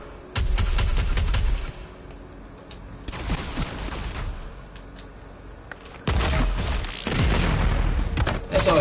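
Heavy, booming shots from the repeater weapon in Doom Eternal, fired in three loud, separate bursts with quieter gaps between them.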